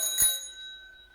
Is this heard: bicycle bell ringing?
yes